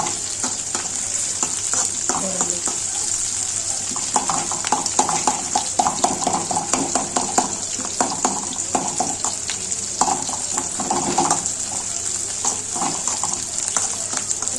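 Ingredients for a mutton gravy are sautéed in a pan with a continuous sizzle, and repeated scraping and stirring clacks from a spatula break into it in irregular bursts for about fifteen seconds, with no talking.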